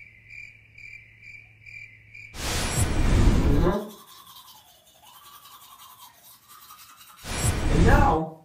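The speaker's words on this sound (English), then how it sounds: "That's how to use a toothbrush." Quick bursts of toothbrush bristles scrubbing teeth, two loud close passes separated by a quieter stretch, with a faint insect-like chirp before the first.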